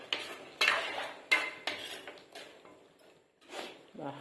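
Village-style chicken curry stirred in a metal pot, a run of close, sharp scrapes and clanks of the spoon against the pot, with a voice briefly heard near the end.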